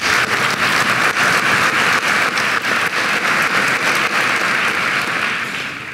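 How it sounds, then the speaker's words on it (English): Steady, dense applause for student speakers at a school graduation ceremony, loud and sustained from a large crowd for several seconds before tapering slightly at the end. "How about one more round of applause for our student speakers?"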